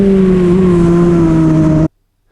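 A racing motorcycle engine howls at full throttle on the Jerez circuit, a loud steady high-pitched drone held close for nearly two seconds before cutting abruptly to silence.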